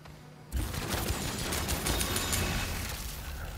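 Abrupt, loud gunfire in the PS5 game Outcast 2 erupts after a quiet moment and continues as a dense, rapid stream of shots with metallic clatter, close and unbroken for several seconds.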